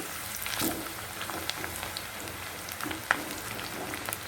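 Tindora (gherkin) pieces frying in hot oil for a crispy gherkin 65, a soft steady crackling sizzle with occasional small pops, close and fairly quiet with no talk.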